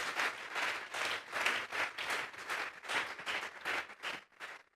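A church congregation claps together as an offering of praise, giving steady, dense applause with a loose rhythmic pulse. It lasts several seconds, heard from within the crowd with no voices over it.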